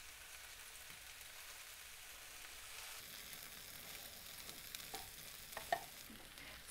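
Kale and potato fry in a pan for an Indian-style bubble and squeak, giving a faint, steady sizzle with occasional stirring scrapes and small pops toward the end. There is no talking.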